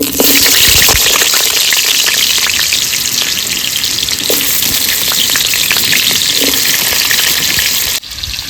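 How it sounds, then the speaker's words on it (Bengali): Loud, continuous sizzling of potatoes frying in hot oil, with occasional clinks and crackles, close by and steady until a brief drop near the end. "তেল গরম হয়েছে এবার আলু দিয়ে দেবো"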